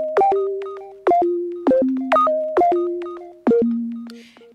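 Clicky future garage sine pluck synth built in Serum plays a short melodic phrase of about six notes, each starting with a sharp click and decaying into a clean, round tone that steps between pitches, loud and alone.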